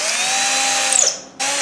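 A power drill bores steadily into wood, a loud sustained whine at close range that briefly rises in pitch, cuts out for a moment, then resumes.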